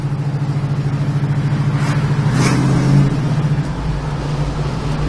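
A 1969 Chevrolet Camaro engine runs steadily while driving, a continuous low rumble with a brief swell of revving around the middle before settling back to an even drone.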